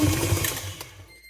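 A stand mixer whirs at speed 6 while kneading bread dough for Puerto Rican water bread, its motor humming steadily before cutting off.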